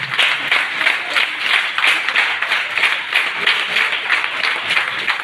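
Rapid four-finger clapping by a crowd imitating rain and hail, a dense, steady patter of light claps with even rhythm throughout, loud and close with no talking.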